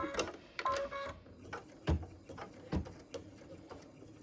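An embroidery machine stitches a stocking placement line onto stabilizer, giving quiet, irregular mechanical taps and whirs with a few short, louder clunks.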